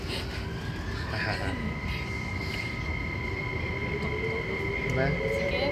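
Train running, heard as a steady rumble with rising tonal whine from the rails, close and continuous, with people chatting over it.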